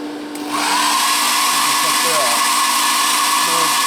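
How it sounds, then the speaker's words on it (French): Heat gun blowing hot air onto a freshly placed neon strip during assembly of a Renault 5 Alpine model, a steady close whirring blower that starts after a brief quiet moment and runs continuously, with faint talk beneath. "Sèche-cheveux, excusez-moi, décapeur."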